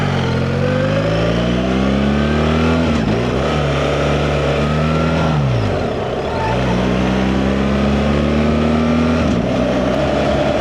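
BMW R 1300 GS Adventure boxer-twin motorcycle running steadily, close and loud, its engine note rising and falling through gear changes with a brief dip near the middle.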